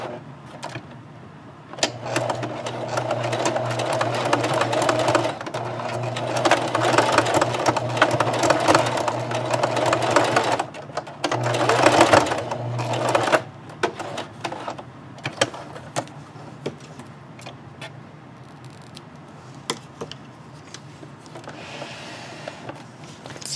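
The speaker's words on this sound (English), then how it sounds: "I'm going to stitch in the ditch or close to the ditch and catch that tie" A sewing machine stitches in the ditch on a fabric scrub cap, a close, uneven whirring with stops and restarts, loudest in the first half and fading to lighter intermittent clicks.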